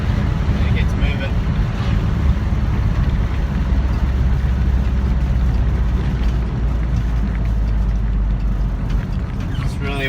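A Subaru Kombi car on a drive gives a steady, close engine and road rumble with a constant roar and some wind buffeting, unbroken for the whole stretch.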